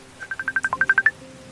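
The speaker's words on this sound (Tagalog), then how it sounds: "sang umagang maulan ang bumungad kay Jasmine nang siya'y magising dahil sa tunog ng kanyang telepono." A telephone sounds a quick run of about ten short, evenly spaced electronic tones, clear and close, with no talk.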